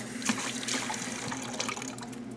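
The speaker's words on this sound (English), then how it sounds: "Make sure to rinse all the soap off." Running water rinses soap off metal surgical instruments, a steady close splashing flow with brief clinks of metal, moderately loud and with no talk.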